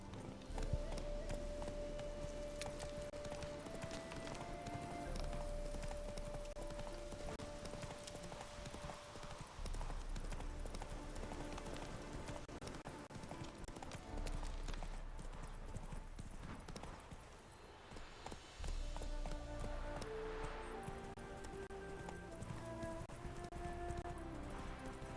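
Rhythmic hoofbeats of the horse Roach galloping in a video game played on Death March difficulty, steady and continuous clip-clop with brief pauses, over background music and game ambience.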